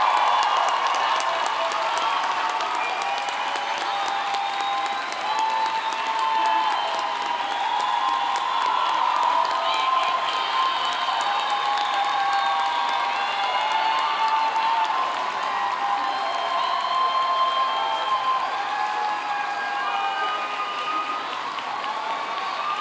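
A large crowd at a veterinary medicine commencement ceremony fills a venue with sustained applause and cheering, steady and loud throughout, with scattered whoops over the dense clapping.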